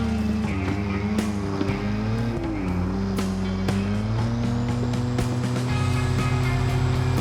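A car with a flat head inline-six engine cruises in a driving video game, its engine holding a steady droning hum with shifting pitch and a few sharp ticks, almost no voice over it.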